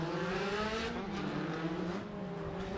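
A drift car sits on the start line at a British Drift Championship pro qualifying round, its engine revving loudly and steadily with a rising and falling tone, and no talk over it.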